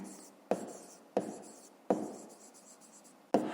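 A pen writing on paper while working a fifth-grade math exercise, close and quiet, in short scratchy strokes with soft taps as each new stroke begins.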